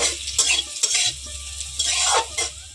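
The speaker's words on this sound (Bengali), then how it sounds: "আর এই গাজরটাকে আমি এখন এক মিনিট মতো তেলে এইভাবে ভেজে নেব" Carrots stir-fried in hot oil in a wok for about a minute: loud, close sizzling with repeated scraping stirs and a low hum underneath, no voices.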